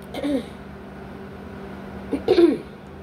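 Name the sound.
throat clearing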